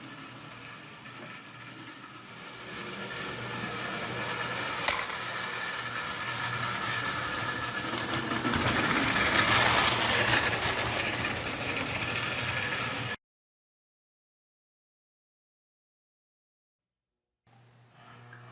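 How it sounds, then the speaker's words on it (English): A 1972 Lionel toy train engine with a Pullmor motor runs with a steady whirring hum that grows louder and rougher, then cuts off into silence before a brief sound resumes at the end. "So let's check out it running a little bit, and then we're going to see how much that Pullmor motor can pull."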